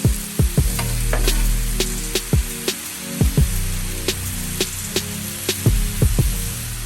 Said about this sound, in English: I'm just giving the onions and mushrooms a nice mix, making sure everything is touching the flat top.